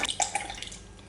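Ordinary vinegar poured out to measure it, a short run of light dripping and splashing liquid with a few distinct drops, close and quiet.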